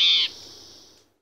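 A western spotted towhee calling from bushes: one short rising buzzy note, close and clear, fading quickly.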